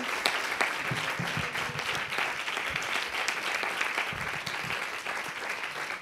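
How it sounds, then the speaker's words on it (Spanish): An audience applauds Aram Aharonian, author of El asesinato de la democracia, at the end of a book talk: dense, continuous clapping from a crowd, steady and moderately loud throughout, with faint murmurs underneath. "Un gran aplauso para Aram Aronian"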